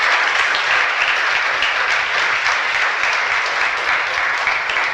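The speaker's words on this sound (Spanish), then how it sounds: "Dele un aplauso a Dios por su amor y su poder." Sustained applause from a church congregation during a Spanish-language sermon, a dense, even wash of many hands clapping steadily throughout with no talk over it.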